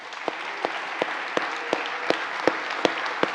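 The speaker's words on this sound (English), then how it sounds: "I want everyone to give dads a round of applause" An audience applauds dads at a talk, a steady wash of many hands clapping with a few sharper claps standing out at a regular beat, fairly close and full.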